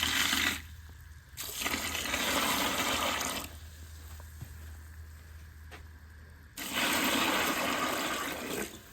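Water pours over alfalfa pellets in a feed bucket, two bursts of rushing, splashing flow separated by a quieter pause.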